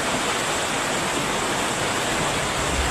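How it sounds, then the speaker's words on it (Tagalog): Floodwater rushing into a house during a flood, a steady loud broadband roar of flowing water that runs without pause from start to end, with no talking. "pasok na ho yung tubig sa loob ulit"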